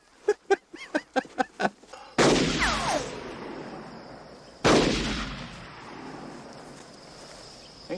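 Two loud, sharp gunshots from the 1992 Western Unforgiven, each followed by a long rolling echo that fades slowly, after a short run of quick rhythmic taps.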